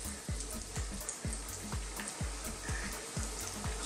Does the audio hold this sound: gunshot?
no